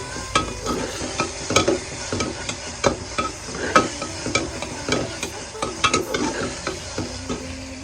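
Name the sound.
sautéing masala and rice for masala bhat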